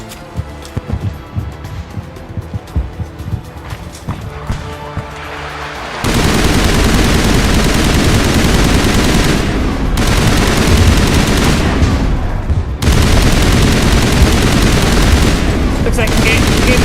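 Rifle gunfire in the video game Mass Effect: sparse single shots at first, then loud sustained bursts of rapid automatic fire with a short pause between, dense and close.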